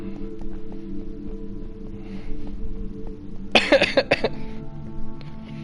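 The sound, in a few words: laughing cough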